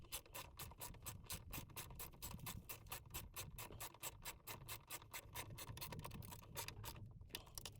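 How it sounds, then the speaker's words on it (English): A hand ratchet tightens a 10mm bolt on a 2016 Land Rover LR4, giving a steady run of sharp close clicks that continues for several seconds, then a brief pause near the end. "you got to put the 10mm bolt back in at the bottom."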